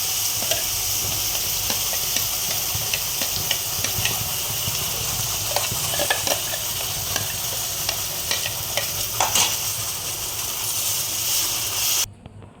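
Onions fry in a pan with cloves and turmeric, giving a loud, steady sizzle broken by repeated scraping stirs, then cutting off abruptly near the end.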